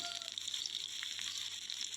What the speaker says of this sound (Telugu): తాలింపు గింజలు వేద్దామండి కావాల్సిన తాలింపు గింజలు వెల్లుల్లిపై కొంచెం ఎక్కువ వేసుకోండి